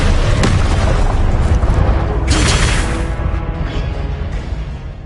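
Incendio fire spell blast in Hogwarts Legacy: a loud booming burst with sharp crackling flare-ups, rumbling and then fading over several seconds, no talking.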